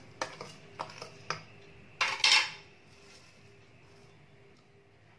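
Spoon clinks and scrapes against a steel bowl while besan flour is mixed with cardamom powder, raisins and crushed edible gum for ladoos, a few light taps then a brief louder scrape, then quiet kitchen hum.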